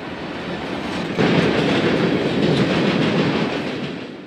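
A Chicago, Fort Wayne & Eastern freight train runs past at close range near Hobart, its steady broadband rumble swelling suddenly after the first second and holding loud, with a faint clickety-clack of wheels over rail joints throughout.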